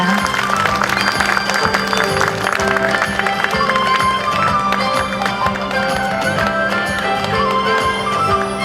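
An audience applauds at the 2018 Hanbok Culture Week opening ceremony after a posthumous Order of Cultural Merit is presented. The clapping is loud, dense and steady for the whole stretch, with some tonal sound running underneath.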